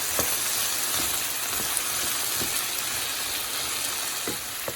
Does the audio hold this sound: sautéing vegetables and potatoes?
yes